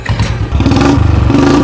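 A new motorbike's engine catches and revs, a close, loud throaty rumble that rises and steadies into a pulsing idle with a few clattering knocks.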